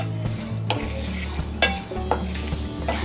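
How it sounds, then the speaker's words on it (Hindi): Masala spices are roasted in a pan for bisi bele bath, with steady close stirring scrapes and clinks of a utensil against the pan over a low sizzle. "अब हमें सारा मसाला अच्छी तरह भून लेना है।"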